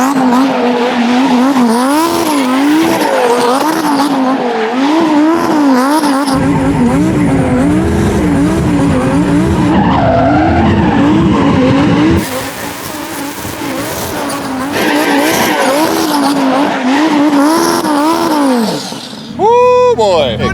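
A 1700hp twin-turbo V10 Audi R8 doing donuts, loud wavering tire squeal and revving engine close by, cycling in rhythmic swells with brief pauses, ending in a sharp rising screech, with voices shouting over it.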